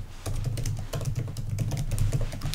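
Student details are typed quickly on a computer keyboard, with close, rapid clicky keystrokes in uneven bursts and no speech.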